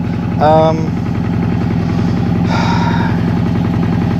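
A Honda CB350F motorcycle engine idles steadily up close with an even, low pulsing throb throughout, while two short bursts of a voice cut in over it.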